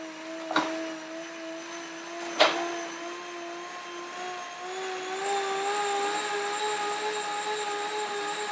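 A Sportneer magnetic or Cycleops Fluid 2 indoor bike trainer hums steadily while the rider shifts through the gears, its whine rising in pitch; two sharp clicks of gear changes come near the start.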